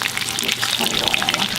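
Fish sizzling in hot oil in a skillet, a steady dense crackle and spatter up close with no pauses.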